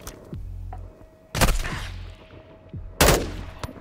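Gunfire in the Call of Duty video game: two loud, sharp bursts of shots about a second and a half apart, with quieter game ambience and low rumble between them and no talking.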